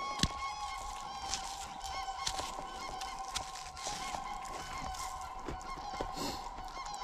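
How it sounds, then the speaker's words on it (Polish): Geese honk repeatedly in the distance outdoors on frozen ground, a steady chorus of calls with occasional sharper nearby clicks and knocks. "Ptaki tam wyją."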